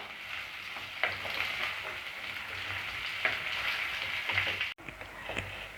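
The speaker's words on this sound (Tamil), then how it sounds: "வெங்காயம் நல்லா கோல்டன் ஃப்ரை ஆகிற வரைக்கும் வதக்கி விட்டுட்டே இருங்க." Onions sizzle and fry in a pan on low gas heat for a coconut chicken curry, a steady close crackle broken by a few soft stirring scrapes.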